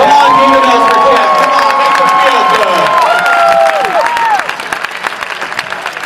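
A New Jersey Devils crowd in an arena applauds and cheers for Jeff. Loud clapping mixes with long rising whoops and shouts that fade after about four seconds, leaving scattered claps.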